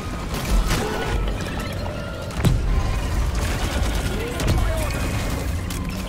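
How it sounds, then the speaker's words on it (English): Engineer turret in Halo Infinite firing bursts of rapid weapon discharge with heavy mechanical clatter and a few booming hits, while players talk over the gunfire. "Turret discharge."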